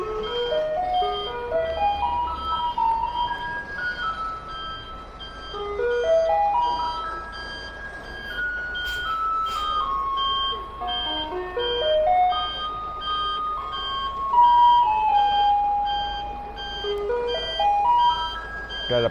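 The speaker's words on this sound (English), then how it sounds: "This is the recycling truck, and this is the general garbage truck." Recycling and garbage trucks arriving on a street in Taiwan, playing a tinkling melody of stepping electronic tones over engine rumble, with beeps mixed in, continuous and fairly close.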